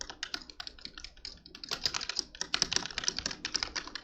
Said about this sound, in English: Let me just type it out.